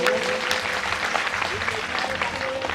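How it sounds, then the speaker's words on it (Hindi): Audience clapping in a hall during a Hindi religious discourse, dense continuous applause at steady loudness through the whole stretch, with a voice speaking over it. "3 पे सबको ताली बजानी है"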